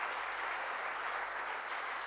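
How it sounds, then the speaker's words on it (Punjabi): An audience applauds at a Sur Sirtaj Season 2 television stage show, a dense continuous wash of clapping at steady loudness throughout, with no voices over it. "ਜ਼ੋਰਦਾਰ ਤਾੜੀਆਂ ਇੱਕ ਵਾਰ ਸੁਰ ਸਿਰਤਾਜ ਸੀਜ਼ਨ 2 ਦੇ ਲਈ"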